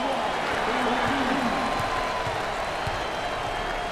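A basketball arena crowd at a Florida State versus North Carolina ACC tournament game cheers and applauds in a steady, loud roar, with a voice talking over it.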